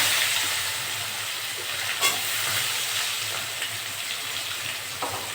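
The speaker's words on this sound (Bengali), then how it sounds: "পেঁয়াজটা দিয়ে একটু ভেজে দেবো।" Onions fry in a pan for a potato chicken curry, giving a steady, even sizzle throughout with an occasional faint clink.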